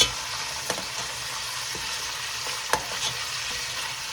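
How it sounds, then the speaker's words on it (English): Fresh garlic and beef stir frying in a pan for a spicy Pakistani nihari curry, a steady broadband sizzle with a few sharp clicks of a utensil stirring, close and continuous throughout without speech. "garlic in it, and I will stir fry it again."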